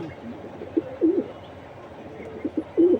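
A female edge-bird-line racing pigeon coos in several short, low, throaty bursts, close by and moderately loud over a soft background hum.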